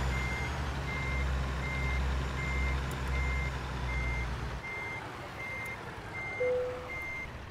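Evenly paced reversing alarm beeps from a truck in American Truck Simulator, hauling a road roller, repeat over a low engine drone that drops away midway, followed by a short higher tone near the end.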